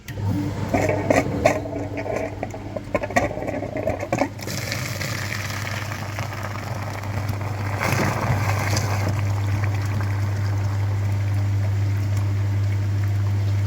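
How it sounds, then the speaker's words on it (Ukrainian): A flushing machine pumps fluid through the heater core of a Daewoo Lanos, a steady loud motor hum with gurgling, rushing liquid that swells after a few seconds and continues unbroken. "Зараз ми підключені на сам радіатор пічки. І в нас чистий фільтр, включаємо апарат, вмикаємо,"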